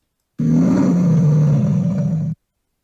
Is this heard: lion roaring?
yes